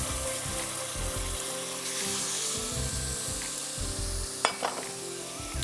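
Onion and garlic paste sizzling as it fries in a pan, a loud continuous crackle with stirring and rubbing sounds over low background noise and a couple of sharp knocks near the end.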